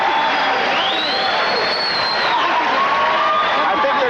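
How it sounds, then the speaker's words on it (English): A packed arena crowd at the Mirage roars and cheers continuously through a kickboxing fight between Urquidez and Tagami, a dense, loud wall of cheering with a few whistles rising above it. "I think they're cheering both fighters."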